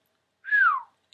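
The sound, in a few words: man imitating a low whistle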